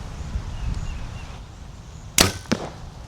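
An arrow shot from a bow at about 25 yards, thudding sharply into a target, followed a moment later by a second, softer impact; faint ambient noise before, no talking.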